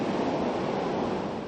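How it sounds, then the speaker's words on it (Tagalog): Strong wind and big waves churn the sea ahead of Typhoon Christine, a dense, continuous roar of surf and gusts with no voices. "Malakas na kasi ang hangin at naglalakihan na rin ang alon."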